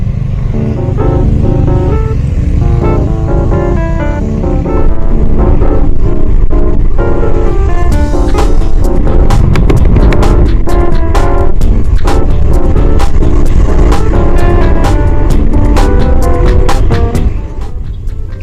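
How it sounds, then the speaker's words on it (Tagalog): Road traffic in Sta. Maria, Bulacan rumbles as a loud, continuous low engine roar from passing cars and motorcycles, with dense clicking and rattling bursts building through the second half, all close to the microphone and without talk. "Traffic here, traffic there, traffic everywhere."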